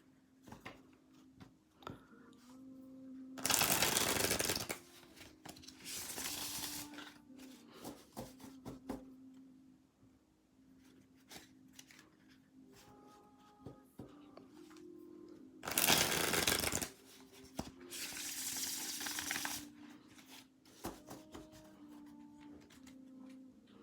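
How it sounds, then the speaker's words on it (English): Two bursts of cards being shuffled, a brisk riffle followed by a second, with quieter handling and tapping of the deck in between. "Beautiful card stack to shuffle with without any problem."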